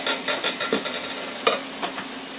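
Ramen noodles dropped into about two tablespoons of hot oil in a pan crackle in a quick series of sharp sizzling bursts that taper off, followed by a few scattered louder pops and stirring scrapes over a steady hiss.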